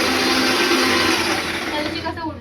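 Mixer grinder running loud and close for amti preparation, a harsh steady whirr that holds, then dips slightly as it winds down near the end.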